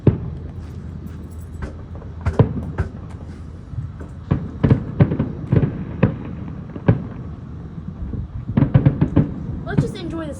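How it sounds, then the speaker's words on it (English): Fourth of July fireworks booming in the distance, a series of irregular thuds and crackling bursts spread across the night, with people talking nearby in between. "Nice sound of fireworks."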